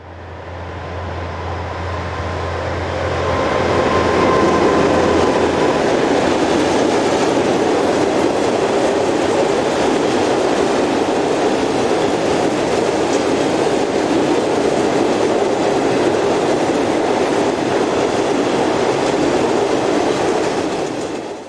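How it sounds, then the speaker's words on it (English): Two locomotives, numbers 6500 and 6515, hauling an oil train eastbound on a Dutch branch line, a loud steady roll of wheels and clattering wagons that builds in the first few seconds and then holds. "6500 and 6515 head east with an oil train"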